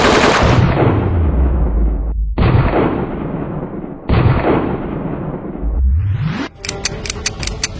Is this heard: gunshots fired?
yes